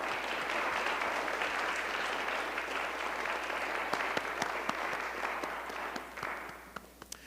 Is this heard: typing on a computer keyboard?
no